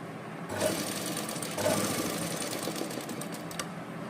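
A sewing machine stitches a suit seam, running steadily and close up with a continuous rapid mechanical whir that swells slightly at two points, with no talking.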